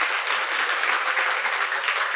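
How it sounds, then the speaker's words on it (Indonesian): A crowd of students claps together at a university orientation event in Indonesia, a short, dense burst of steady applause filling the room, loud and continuous with no voices on top. "Oke, tepuk tangan dong teman-teman."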